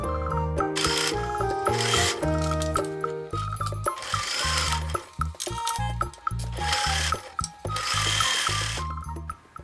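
A sewing machine stitches loose basting along a blouse sleeve cap in loud mechanical runs, starting and stopping with brief pauses, its rattling whir close and steady.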